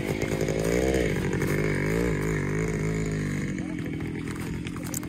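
A motorcycle engine revs up and down nearby, a buzzy rising and falling drone that eases back toward the end; small bikes such as Spark, Loncin, Kovi and Geon.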